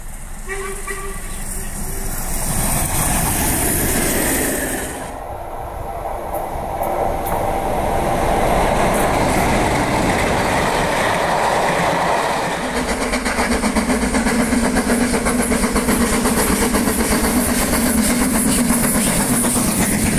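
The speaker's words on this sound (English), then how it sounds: "I discovered the ingenious Beaumaris Pier luggage railway." The small Beaumaris Pier luggage railway train runs along the pier with a loud, steady rumbling and rattling that shifts in tone partway through, while someone talks.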